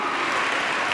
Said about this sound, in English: strong round of applause as they have been working in the highways, in the byways, to invite all of our women